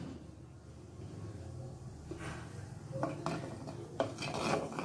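Chosi payesh stirred in a pot on a gas stove: quiet, low background hum with soft scraping and rubbing strokes that grow more distinct toward the end, a few sharper clinks against the pot.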